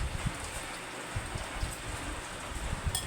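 Rain falling steadily during the rainy season, a soft continuous hiss with scattered drops and light taps, fairly quiet and without voices.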